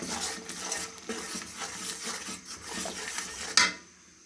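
Cooked rice being drained from a pot in a home kitchen, with clattering metal cookware, scraping and pouring water throughout, ending in a sharp metallic clank before a quiet tail.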